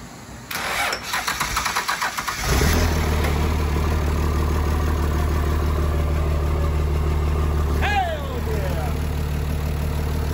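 An old key switch cranks a burnout rig engine, with a couple of seconds of rapid cranking before it catches and settles into a loud, steady rumbling idle close by, with a brief rev near the end.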